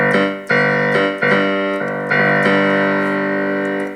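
Low notes on a Yamaha NP-30 electronic piano: a handful of deep chords struck in slow succession, each ringing and overlapping, the last one held and fading, loud and close with no speech.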